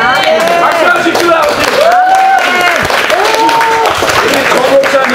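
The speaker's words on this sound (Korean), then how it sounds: "박수하십시오." An audience at a pastor's 80th birthday celebration claps continuously while loud voices call out and cheer over the applause.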